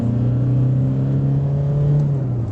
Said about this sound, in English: So this is second gear, full throttle.